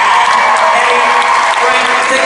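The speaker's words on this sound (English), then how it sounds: "How about a round of applause for our panel, ladies and gentlemen?" A panel audience at a Harry Potter exhibition celebration gives a dense, loud round of applause, a continuous wash of clapping that holds steady for a couple of seconds.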